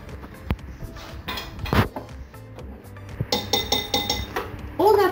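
A saucepan and utensils clink and clatter in short, scattered knocks, with a brief metallic ring near the end and faint voices in the background.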